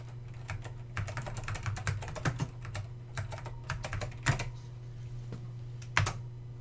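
Keyboard typing while entering shortcuts in a text editor to save a Fortran program file and exit, a steady run of close, moderately loud key clicks with a few sharper strokes and no talking.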